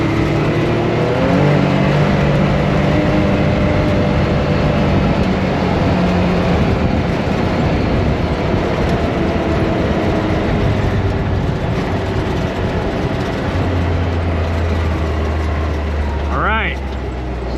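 An off-road vehicle drives along the roads through the Glamis sand dunes, its cabin filled with a steady, loud rumble and wind roar, while people talk over it throughout.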